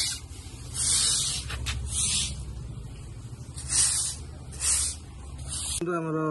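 Castrol anti-rust lubricant sprays onto a bicycle chain in several short hissing bursts, close and steady, over a low background hum.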